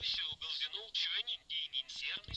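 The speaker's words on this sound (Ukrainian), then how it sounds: "реально радіо включалося" Radio playing inside a house in the Hello Neighbor video game, a tinny broadcast with voice-like sound running nearly continuously in short bursts over about two seconds.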